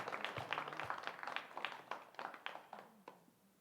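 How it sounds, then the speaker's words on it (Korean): Church congregation clapping in thanks for an elder, a quiet, steady patter of many hands with scattered sharper claps, fairly faint and distant throughout. "우리 장로님께 감사의 박수 한번 하겠습니다"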